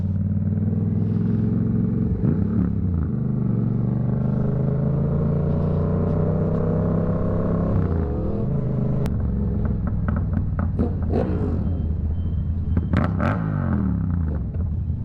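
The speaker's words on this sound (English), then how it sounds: "Look at that motorcycle." A motorcycle rumbles past with rising and falling engine pitch, followed by further engine noise and clicks, close and continuous.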